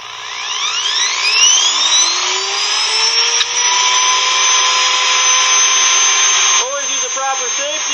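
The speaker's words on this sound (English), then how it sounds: "So I got my Dremel here." A Dremel rotary tool spins up with a rising whine and grinds at high pitch against the steel roller of a pasta maker, loud and close, ending in a few short stuttering bursts.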